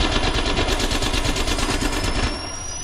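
Dense, continuous automatic gunfire from the Apex Legends video game, loud and rapid for about two seconds before easing slightly, with no voices audible over the shots.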